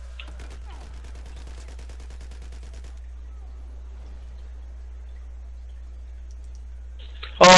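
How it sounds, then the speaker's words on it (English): Rapid pistol gunfire in the video game Battlefield 4, a quick run of sharp clicking shots over a steady low hum, then quieter scattered sounds and a brief loud burst at the end. "Oh, I got them all with my pistol!"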